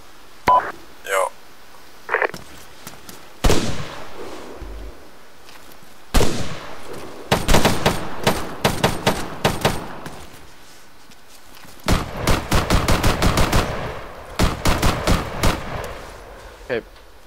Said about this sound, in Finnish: Ampuu taloon meitä.